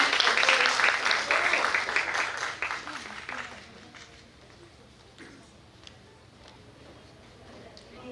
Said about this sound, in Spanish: le pido un voto de aplauso, por favor